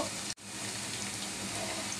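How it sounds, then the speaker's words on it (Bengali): Chopped onion frying in a pan with ginger and garlic, a steady close sizzle with one brief break early on. "পেঁয়াজটা একটু হালকা ভাজা করে নেব।"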